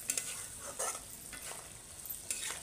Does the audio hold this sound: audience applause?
no